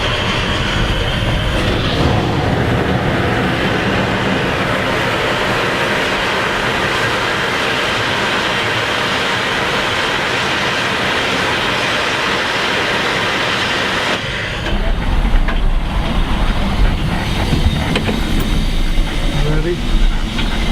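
A steady loud rushing hiss comes from the injector on GR 10, a steam locomotive, running without a break before it changes character partway through, with people talking faintly under it.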